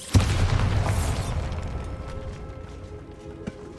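A Bombarda spell blast in the Hogwarts Legacy game inside a tomb, a single loud booming explosion at the start followed by a rumbling decay and faint debris sounds.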